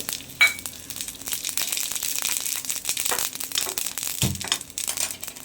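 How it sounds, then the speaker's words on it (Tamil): Mustard seeds, urad dal and dried chillies crackle and pop in hot oil, a dense close spluttering sizzle with irregular sharp bursts and a spoon knock, no talking. "கடுகு உளுந்து காஞ்ச மிளகாய் தாளிச்சிட்டு பொரிஞ்சிருச்சா"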